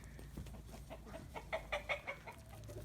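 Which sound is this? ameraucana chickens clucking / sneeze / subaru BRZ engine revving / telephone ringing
ameraucana chickens clucking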